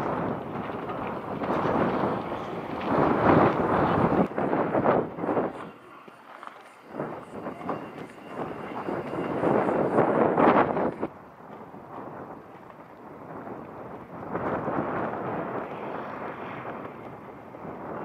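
Strong wind outdoors on the Greek island of Patmos roars and buffets the microphone in heavy, uneven gusts, rising and easing over several seconds, with a few quieter lulls between blasts.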